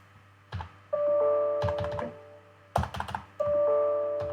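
Computer keyboard typing out HTML code in the vim editor, with short bursts of close key clicks separated by pauses, while a steady electronic tone sounds in the background.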